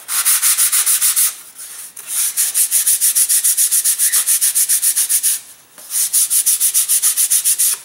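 Sandpaper rubs back and forth across a model aircraft wing to shape an airfoil, producing rapid rhythmic rasping strokes in three long close runs with short pauses between.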